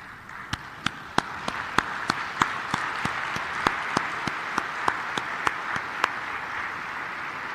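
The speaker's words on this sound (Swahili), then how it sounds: "naomba tusimame na tuwapigie makofi" A conference hall audience at the Africa coffee-producing nations summit applauds in honour of African coffee farmers, with sharp, evenly spaced rhythmic claps over a continuous broad wash of clapping and no talk.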